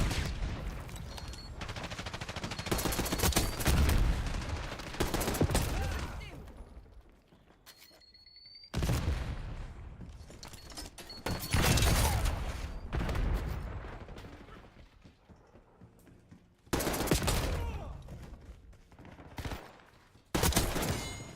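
Automatic gunfire in a video game, repeated loud bursts of rapid shots separated by quieter gaps, with some mechanical clicks in between.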